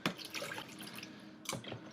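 Water scooped from one container and poured into another, a soft continuous splashing and trickling with a brighter splash near the end, close by with no speech.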